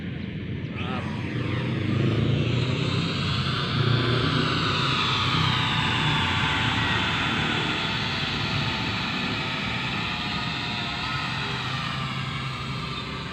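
Drone motors whir steadily through a first flight, a loud, sustained buzzing drone that rises in pitch as it lifts off and then holds close and even, with faint talk in the background.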